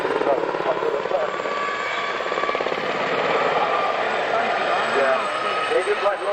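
A helicopter flies over the Biggin Hill Battle of Britain Airshow in 1995, its steady rotor thrum and engine whine loud and continuous throughout, with someone talking over it.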